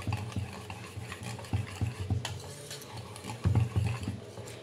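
A spoon stirring four spoonfuls of oil into rice and lentil dhokla batter, giving soft wet scraping and clinking strokes in an irregular rhythm, close and fairly quiet, with a few louder swirls.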